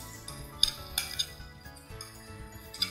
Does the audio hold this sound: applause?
no